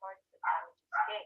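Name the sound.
neighbor's dog barking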